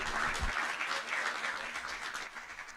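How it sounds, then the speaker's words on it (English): An expo audience applauds its panelists in a steady, dense wash of clapping that stays fairly even, sounds somewhat distant and fades slightly toward the end. "Let's give our panelists a round of applause."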